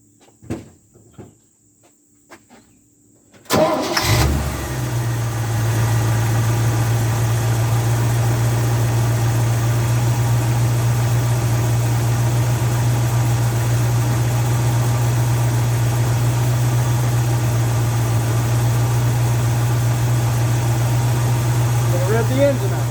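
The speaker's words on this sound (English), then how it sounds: "We'll start the engine up." An engine turns over after a few light clicks and knocks, catches, then settles into a loud, steady idle while a carburetor is being tuned.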